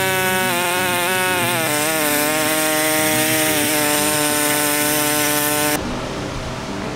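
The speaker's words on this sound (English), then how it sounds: "I've gotta bring a real saw down here." A sledgehammer handle is cut with a saw during a junk-hammer restoration for blacksmithing. A loud, steady, droning tone with a strong pitch holds for several seconds, then cuts off into a rougher, quieter noise.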